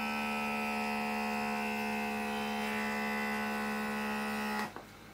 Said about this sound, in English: And vacuum seal this one. It's quite full, so it won't take as long to get the air out of there.